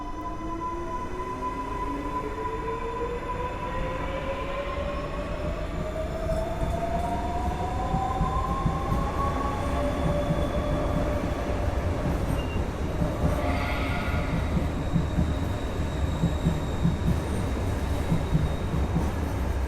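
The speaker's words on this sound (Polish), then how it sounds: "Asem 19WE e na linii S1 do Otwocka otrzymał sygnał i rusza" Electric multiple unit train, class 19WE, pulling away on the S1 line toward Otwock, with a steady rumble of wheels on rails, rising motor whine, and a brief squeal midway, close and continuous.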